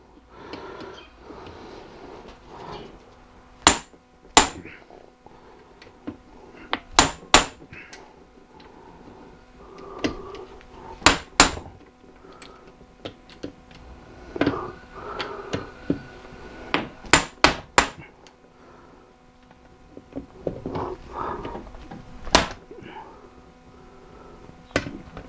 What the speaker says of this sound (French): Donc pareil, déblocage au tournevis à frapper.